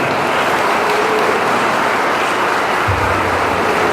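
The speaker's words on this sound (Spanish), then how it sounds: "Yo quiero pedir un fuerte aplauso para Emiliano Fernández" Loud, dense applause from a large crowd at a commemorative event honoring the poet Emiliano R. Fernández, steady and continuous throughout with no pauses.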